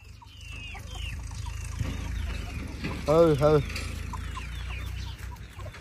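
In a village yard, a big chicken and its chick peck at food while clucking in short bursts, and a person's voice calls out over them at close range.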